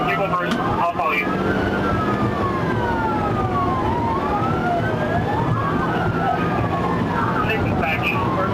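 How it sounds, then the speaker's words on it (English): A police car siren wails in a slow rising and falling sweep during a high-speed highway pursuit, loud and continuous over road and engine noise, with voices talking underneath. "The trooper immediately activated emergency lights and sirens"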